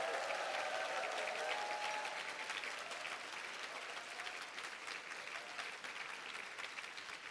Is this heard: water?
no